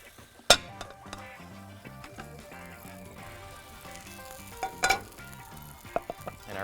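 Korean seafood pancake (pajeon) searing in a hot pan over high heat, with a steady close sizzle broken by a few sharp metallic clinks of utensils against the pan.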